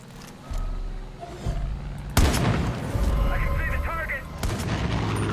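Video game gunfire played on a Lenovo Legion Y740 laptop, with a steady background of game sound, then a loud burst of shots and booms that keeps going, no talking.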